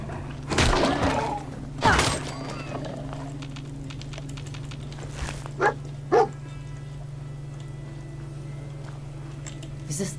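A dog companion in the Fallout 4 video game barks a few times near Fort Hagen: two loud sharp barks early, then a couple of shorter yips later over a steady low game hum.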